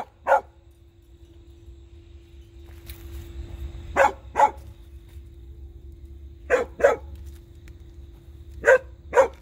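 A dog barks in short pairs of sharp barks, spaced several seconds apart, close and loud over a quiet low rumble.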